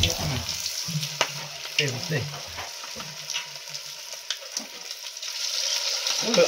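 Chicken leg pieces fry for chicken pakoras in hot oil, a steady close sizzle with stirring scrapes, and a voice talks briefly over it near the start.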